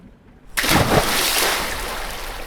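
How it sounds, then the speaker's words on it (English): A diver rolls off a boat into murky lake water, making a sudden loud splash that bursts from near silence and then fades into a churning, sloshing wash. "The diver rolled over the side with a splash into the brown water"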